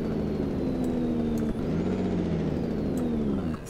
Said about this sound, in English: enjoy the sound of my newly bought truck